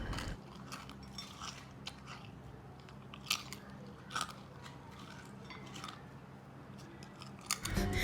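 Crisp crunching bites of crunchy plantain chips, several sharp crackles spaced a few seconds apart, close up, over a quiet low hum.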